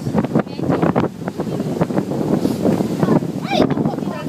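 Gusty wind buffets the microphone in a steady rumbling roar, with faint voices and scattered background sounds mixed underneath.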